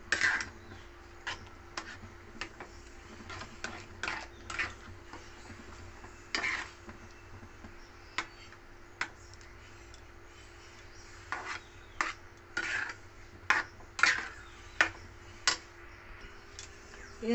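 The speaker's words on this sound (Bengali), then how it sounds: "ভালো করে নেড়ে ছেড়ে সুজিটাকে আমি জলের সঙ্গে মিশিয়ে" A spoon scrapes and clinks against a pan while semolina is stirred into water, producing sparse irregular taps and scrapes spread out with quiet pauses between them, close and fairly soft.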